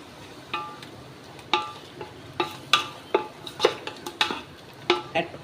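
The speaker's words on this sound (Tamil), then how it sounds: "நல்ல தக்காளி நல்லா மசிஞ்சு வர வரைக்கும் ஒரு நிமிஷம் நல்லா வதக்கி விட்டுக்கலாம்" Chopped tomatoes sautéing in a pan for mutton dum biryani: a dozen or so irregular spatula scrapes and clinks against the pan over a soft, steady sizzle, with no talking.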